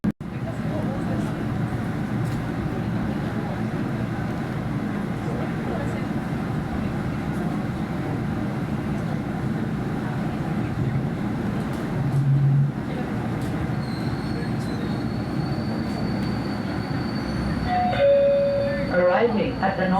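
An LRT Line 2 train pulls into Anonas Station, its steady rumble filling the car under a recorded announcement voice. Near the end a high metallic brake squeal rises as it slows.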